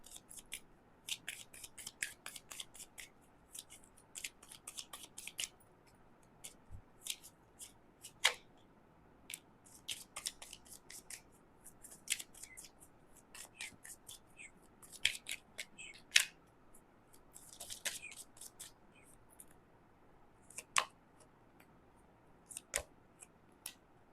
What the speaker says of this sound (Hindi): थोड़ा सा इनसे भी कार्ड लेना चाहूंगी मैं